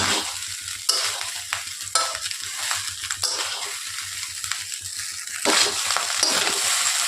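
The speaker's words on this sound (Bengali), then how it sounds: "এবার শুধু একটু নাড়াচাড়া করে আমরা শুকনো শুকনো হয়ে আসলেই নামিয়ে নেব।" Fried rice is tossed and stirred in a hot pan, rhythmic scraping strokes of a spatula repeating about once a second over a continuous close sizzle, with no talking.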